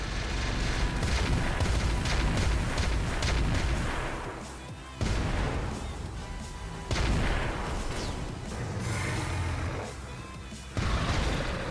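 Repeated heavy booms of Clan Mortar 80 airburst rounds in the mech game Roguetech, loud explosive blasts in several bursts with pauses between, over busy battle noise.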